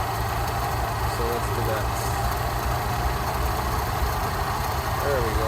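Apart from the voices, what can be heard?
Rolls Royce Silver Shadow engine idling during carburettor tuning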